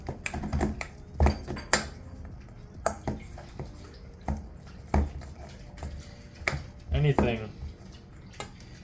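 A spoon's back repeatedly mashing ripe bananas in a bowl for chocolate chip banana bread, giving irregular close soft thuds and clinks of metal against the dish, with a voice talking over parts of it.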